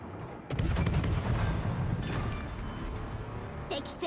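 Heavy warship main-battery salvos boom in World of Warships, a sudden loud blast followed by a sustained rumbling roar and crackling, with sharper bursts near the end.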